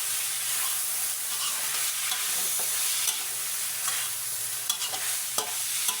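Black pepper beef cooked with wine hisses and sizzles steadily in a hot pan, loud and constant, while a utensil stirs and scrapes now and then, with no voices.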